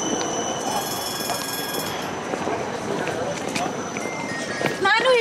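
A train passes through a station, rumbling and rattling steadily with high squealing wheel tones and metallic screeches, loud and close, ending in a brief burst of sharper squeals.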